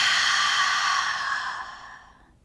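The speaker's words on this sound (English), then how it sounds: "As you take a wholehearted deep breath in, and then a deep breath out." A single long, deep exhaled breath during a yoga session, loud and close at first and trailing off as it fades, with no talking over it.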